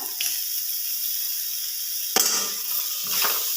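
Butter sizzles in a hot pan for a prawn salad, a steady bright hiss broken by a couple of sharper bursts as it is moved around.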